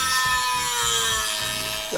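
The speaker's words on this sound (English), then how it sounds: "I used a Dremel tool to cut out the copper" A Dremel rotary tool with a cutting wheel grinding through copper clad board held in a vise, a steady high whine with a continuous gritty rasp, loud and close throughout.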